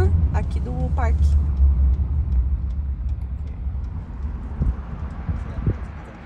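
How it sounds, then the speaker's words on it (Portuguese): A yellow park tour truck in Yellowstone drives past on a nearby road as a loud low engine rumble that slowly fades, with people talking over it. "esse caminhão amarelo aqui é o do tour aqui do parque"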